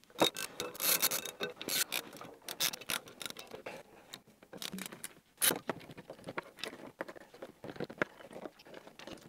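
Hand ratchet fitted with a 2.5 mm hex bit backing out screws from an Elegoo Mars resin 3D printer's FEP vat, giving uneven clicking, scraping and handling noises in close bursts with short pauses and no talking.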